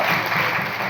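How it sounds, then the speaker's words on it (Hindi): A meeting audience in a hotel hall breaks into continuous applause, a loud, dense burst of clapping heard close up without any voices. "तालियां बजाते रहिए तो अच्छा लगता है"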